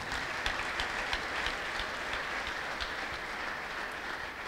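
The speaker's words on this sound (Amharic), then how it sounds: "አጨብጭቡ ለጌታ ክብር።" A church congregation applauds in praise during a prophetic service, a steady dense wash of clapping held for several seconds at moderate level with no speech over it.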